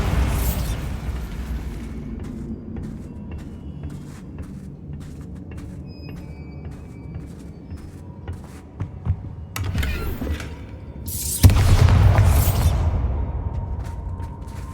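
Hogwarts Legacy's Bombarda spell blasting, a sudden heavy boom with a sharp crack that rolls off into a long rumbling tail, heard after a quieter stretch of scattered clicks and small bursts.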